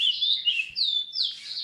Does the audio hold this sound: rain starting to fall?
no